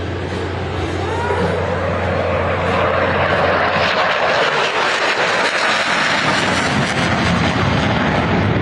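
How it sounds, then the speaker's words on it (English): A US Navy F-35C fighter jet makes a high-speed simulated carrier break pass at about 400 knots over an Independence Day air show in Washington, DC, a loud sustained roar that swells and shifts in pitch as it passes. "brings the F-35C in for a simulated carrier brake at 400 knots"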